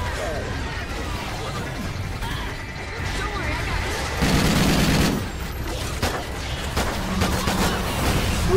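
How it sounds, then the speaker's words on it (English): Call of Duty Ghosts Extinction game action, with dense gunfire and muffled explosion bursts rumbling continuously, a louder blast in the middle, and a person talking over it. "I'm gonna throw two grenades."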